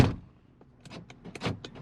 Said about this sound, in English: But we'll test the locks.